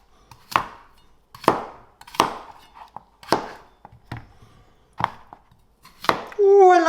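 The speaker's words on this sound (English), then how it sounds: "I might start with the potatoes. We just cut those into family-sized chunks." Potatoes are cut into chunks with a knife on a board, seven sharp, distinct chops spaced about a second apart, close and crisp with short decays, followed by a brief burst of louder noise at the end.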